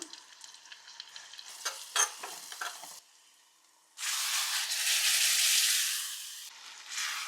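Garlic and Kashmiri red chili powder hit hot butter for a dal tadka, first with some stirring clatter, then after a brief lull a loud, close, sustained sizzle that fades slightly toward the end.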